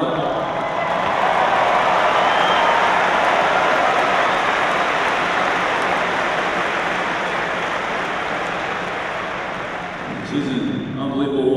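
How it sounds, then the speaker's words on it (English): Steady, dense applause from a basketball senior-night crowd fills the arena at an even level for about ten seconds, then tapers off near the end as a voice begins to come through. "Give her a round of applause."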